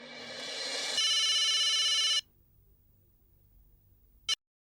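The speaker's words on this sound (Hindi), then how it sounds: "मैं अभी अब्दुल को फोन करता हूँ।" Telephone ringing heard over a speakerphone: a loud, bright electronic ring tone that runs steadily for about two seconds and then stops, followed by faint line noise and a brief final chirp.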